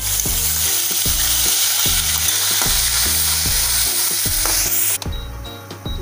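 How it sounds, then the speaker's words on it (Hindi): Onion and green chilli paste fries in a kadai for a gawar bean dish, hissing in a loud, steady sizzle with a rhythmic scrape of a spoon stirring roughly every half second, then quieting slightly at the end. "जब तक अपना मसाला फ्राई हो रहा है"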